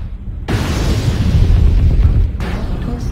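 A heavy explosion from a mech being destroyed in MechWarrior Online rumbles loud and low for about two seconds, then tails off as a second, smaller burst follows.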